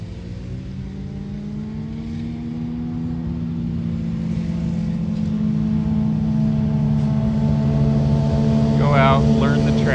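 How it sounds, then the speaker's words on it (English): Motorcycles on a race track at a California Superbike School session: a steady, droning engine whine that slowly builds in loudness and pitch, as if bikes approach from a distance, under a constant background of outdoor noise. "I hear a motorcycle coming, but it never gets here"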